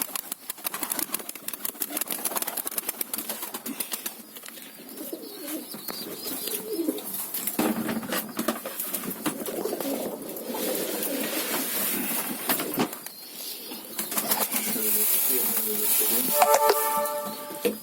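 Domestic birds and their chicks at feeding time call and coo steadily, close by, over a constant engine-like hum, with scattered brief clatter and no clear speech.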